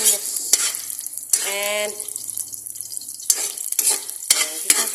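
Garlic sautéing in a pan for a beef stew, a steady sizzle broken by bursts of stirring and clattering, with a brief spoken word over it.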